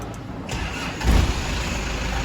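A car engine cranks with the ignition key and catches about a second in, then settles into a steady idle, with a broad rumbling hum throughout.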